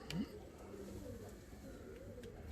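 Crested pouter show pigeons coo softly, low, faint throaty calls amid quiet background.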